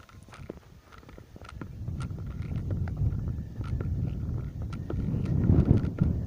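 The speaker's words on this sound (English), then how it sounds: "Oh, it's a bit windy." Low, gusty wind rumbles against the microphone, growing stronger over several seconds, with scattered light taps and rustles.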